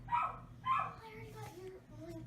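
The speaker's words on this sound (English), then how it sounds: "I got a puppy in there yelping because he wants to get out" A puppy shut in a room yelps twice, sharp and fairly close, wanting to get out, followed by fainter whimpering sounds over a low background hum.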